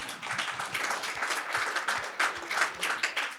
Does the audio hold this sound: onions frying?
no